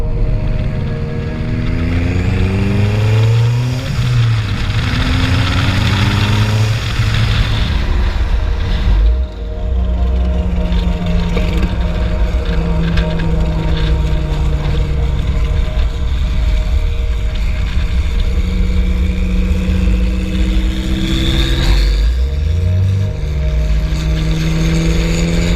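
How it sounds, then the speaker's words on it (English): A 1997 Lotus Esprit with a twin turbo V8 drives at speed, its loud engine rising and falling through gear changes over constant road and wind roar, heard from inside the car. "it's a 1997 Lotus Esprit twin turbo V8"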